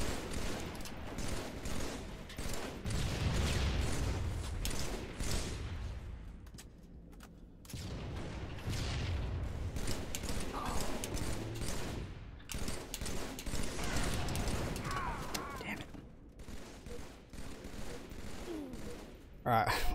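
Sniper rifle fire in Halo multiplayer, with sharp gunshot bursts and rattling volleys recurring across the stretch amid game effects, while a voice talks over the action.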